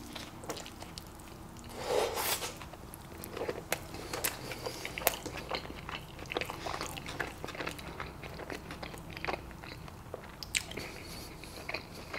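Someone eating big carne asada tacos, with close, fairly quiet wet chewing, crunching and mouth sounds continuing steadily, punctuated by a few small knocks and rustles.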